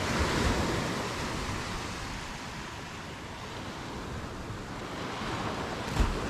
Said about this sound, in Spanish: simplemente escuchar las olas suavecitas que hay ahora